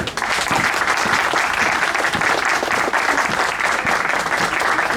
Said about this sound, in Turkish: alkış alalım